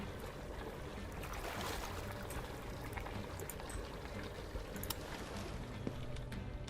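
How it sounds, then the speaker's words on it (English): In the Gunsmith Simulator video game, UZI gun parts go through a hot water rinse, producing a steady bubbling, churning wash of water with scattered small clicks and splashes. "And then move over to the hot water rinse."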